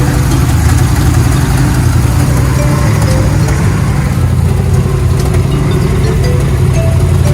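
A classic car's 454 big-block V8 idling close by, a loud, steady, deep rumble with an even lope that holds throughout, no voices.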